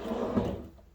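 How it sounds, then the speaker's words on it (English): A big pull-out drawer in the living quarters of a 15'9" Outback conversion horse trailer slides with a brief close rumbling rush that fades out within a second. "Big pull-out drawers there."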